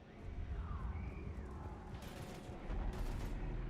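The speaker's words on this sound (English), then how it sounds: "we're taking heavy fire" Gunfire from the video game Mass Effect 3 crackles through a heavy firefight, with sustained shooting and sharper bursts of impacts layered over a dense, rumbling battle backdrop.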